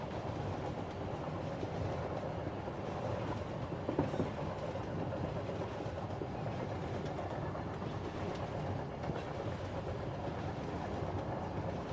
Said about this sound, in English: The vibrations from the track to the train, from the train to the seat